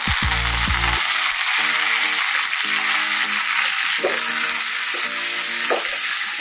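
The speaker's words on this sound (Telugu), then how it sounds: "ఇవన్నీ వేసి తాలింపుని బాగా నిదానంగా వేయించుకోండి." Mustard seeds, cumin, torn dried red chillies and curry leaves frying in hot oil as a tempering for coconut curd chutney, a steady loud sizzle with crackling pops and occasional spoon scrapes throughout.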